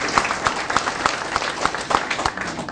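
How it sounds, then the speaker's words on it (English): Applause for a judge at a festival event in a host city, a steady wash of clapping from a gathered audience with a few sharper individual claps standing out, fairly loud and continuous throughout. "give Judge Rutherford a round of applause for everything that he's done for the festival"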